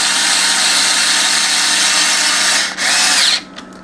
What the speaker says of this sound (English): I think I'll whiz them in with Ron's screwdriver